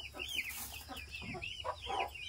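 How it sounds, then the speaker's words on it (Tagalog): Several farmyard chickens cluck and squawk in quick overlapping calls, close by and fairly quiet, on a rural Philippine farm during egg gathering. "Ang dami naming manok, nakakatuwa."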